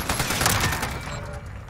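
Video game gunfire crackles in dense, rapid overlapping shots, a loud continuous volley of weapons fire that thins slightly toward the end.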